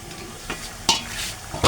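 Dried fish (shutki) stir-fried in a pan, with a low steady sizzle and a few sharp scraping stirs of the spatula against the metal, spaced apart over a short stretch, close by with no talking.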